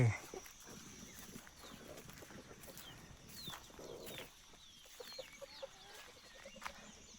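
Chickens in a chicken coop, with scattered soft clucks and a few brief calls set against faint outdoor background noise, moderately distant and fairly quiet throughout.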